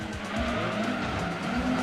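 In the Gran Turismo 2 racing game, a race car takes a hit from another car while engines drone and tires squeal and skid, steady and fairly close.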